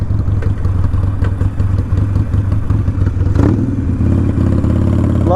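A motorcycle engine revs and roars up close on the first ride of the season, loud and steady, then climbs in pitch as it accelerates near the end.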